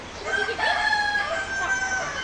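A rooster crows in one drawn-out call, with a bright tonal line holding steady for about two seconds against a constant noisy background, and no talking over it.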